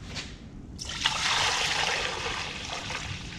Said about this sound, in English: top it off with water.